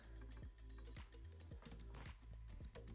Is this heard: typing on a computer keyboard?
yes